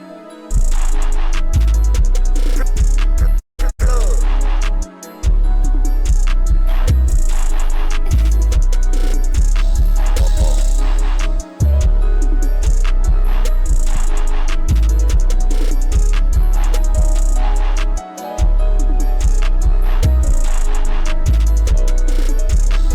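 A loud, dark beat with booming 808 bass and crisp percussion runs steadily throughout, broken by a few brief drops where the low end cuts out.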